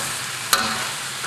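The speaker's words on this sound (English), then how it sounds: "And I'm gonna cook this for about another 2 minutes. Get those onion wedges nice and soft." Onion wedges fry in a pan with a steady close sizzle and one brief clink partway through, with no talking.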